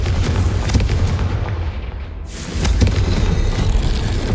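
A fiery Confringo spell blast erupts in Hogwarts Legacy, a loud, booming burst with a rushing whoosh that swells back up to full force after a brief dip, dense and explosive throughout with no voices.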